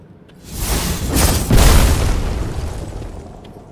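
Bomb ability going off in Dungeons of Hinterberg, a loud booming explosion that swells over about a second and then rumbles away in a long, fading tail, heard alone.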